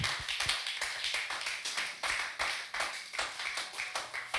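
A church congregation applauds together, a dense run of hand claps with uneven rhythmic pulses, close and lively, with no talking over it.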